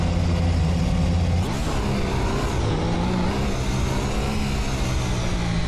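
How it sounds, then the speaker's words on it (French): A 2015 Mercedes F1 V6 hybrid engine in the racing game Assetto Corsa, a loud, continuous whining engine note that shifts pitch as it revs, with no talk over it. "c'est le bruit de moulin à café, du moteur du V6"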